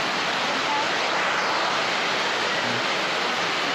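Floodwater rushing loud and steady over a road turned into a river during monsoon rains, a dense unbroken roar close by with no pauses.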